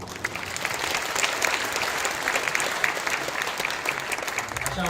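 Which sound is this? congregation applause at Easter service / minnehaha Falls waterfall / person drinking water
congregation applause at Easter service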